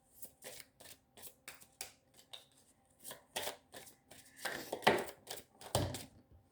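Tarot cards shuffled close up in repeated crisp riffling bursts, a steady series of papery flicks building slightly louder toward the end, with no speech.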